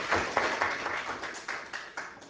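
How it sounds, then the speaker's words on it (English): Scattered applause from a small audience at a meeting, a few people clapping in loose, uneven bursts that fade quickly, close and moderately loud. "we'll give her a round of applause."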